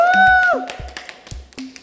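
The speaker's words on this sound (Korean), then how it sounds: "박수." The K-pop group MCND claps hands together in their practice room, a short scattering of claps that follows a brief tone, with talk mixed in.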